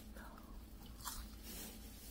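Someone bites into a crispy, buttery pastry pie filled with chestnut, giving a soft crunch followed by quiet chewing, close and faint against low background hum.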